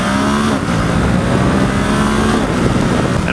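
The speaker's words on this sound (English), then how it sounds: "I have just been riding this motorcycle." A 2018 Ducati SuperSport S motorcycle engine roars loud and close in a steady, dense drone, with no pauses and no voices.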